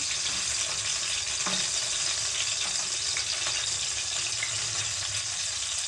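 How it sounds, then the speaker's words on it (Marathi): Stuffed eggplant in bharli vangi masala sizzles and fries in a pan, a steady, soft crackling hiss with an occasional scrape or tap of the spatula. "थोडा अजून वरती करून घेऊया असं थोडं परतून घ्यायचं"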